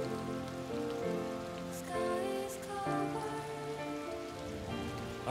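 Steady rain falls in the online game Lost Ark, a soft continuous hiss layered under sustained in-game music tones, with no voices.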